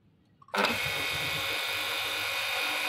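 An electric motor fitted with a starting capacitor switches on and spins up to a steady, loud whine that holds without change after a sharp start, with no talk over it.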